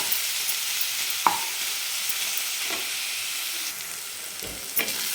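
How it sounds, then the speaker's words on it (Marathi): Onion sautés in a pan on a high flame with a constant hissing sizzle, while a spoon stirs and scrapes against the pan now and then, close up and with no talking. "तर कांदा आपल्याला छान 3 ते 4 मिनिट चांगला एकदम हाय फ्लेमवर आपल्याला परतून घ्यायचा आहे."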